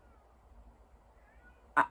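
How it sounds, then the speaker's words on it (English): Quiet room tone, then a single short meow from a cat at the very end, somewhat distant. "Can you guys hear my cat outside?"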